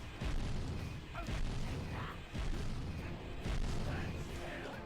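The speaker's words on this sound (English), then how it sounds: "I literally can't see where those explosions are coming from." In Jak and Daxter, repeated booming explosions go off in close succession, several heavy thuds spaced about a second apart over a dense, loud game soundscape.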